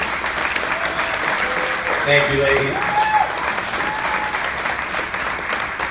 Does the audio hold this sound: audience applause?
yes